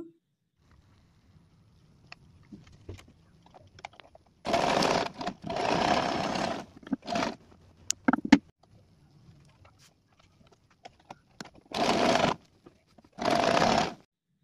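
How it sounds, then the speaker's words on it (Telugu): A home sewing machine stitches a fabric hip belt for a dress or saree, running in several loud bursts of a few seconds each with quiet pauses between, faint talk and handling underneath. "నేనైతే మిషన్ మీద స్టిచ్చెస్ వేసేస్తున్నాను"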